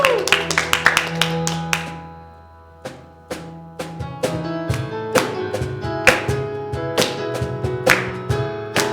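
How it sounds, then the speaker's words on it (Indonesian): A church Sunday school congregation claps hands in a steady rhythm over loud piano or keyboard music during worship, the claps sharp and close. "Kasih tepuk tangan yang meriah buat Tuhan Yesus"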